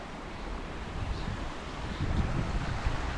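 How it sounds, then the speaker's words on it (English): Wind blows steadily over open water at a mooring in foul weather. It makes a broad, constant rushing roar that builds slightly toward the end, with low buffeting gusts striking the microphone. No voices. "the wind is coming from over there today"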